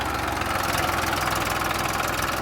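A Massey tractor engine idles steadily, stuck in a farm field, with a constant close, rumbling drone and no breaks or talking for the whole stretch.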